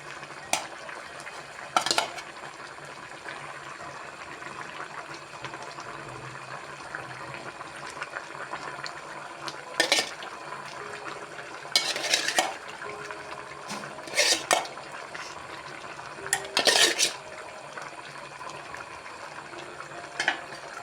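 Shoil fish goes into a cauliflower curry in a pan. Scattered scrapes and clinks of stirring and utensils come in intermittent bursts over a soft cooking hiss, with no talking.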